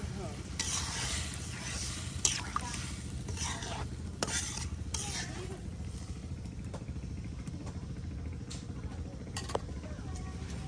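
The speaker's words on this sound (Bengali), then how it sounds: "যেন আরো তরকারিটা কষানো হচ্ছে" A boal fish and eggplant curry is stirred and sautéed in a village kitchen pot, with a low, steady sizzle under repeated scraping strokes and occasional utensil clanks, and a continuous low rumble in the background.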